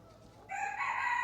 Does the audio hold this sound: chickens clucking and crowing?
yes